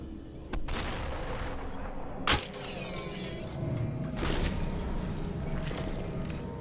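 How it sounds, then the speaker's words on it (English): Shotgun blasts in the video game SUPERHOT: a sharp, loud boom near 2.3 seconds and another burst near 4.4 seconds, with a heavy low rumble between them and no talking. "That's a shotgun"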